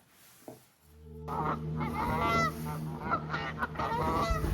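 A loud, dense chorus of geese honking continuously, many birds calling over one another at close range after a brief quiet start.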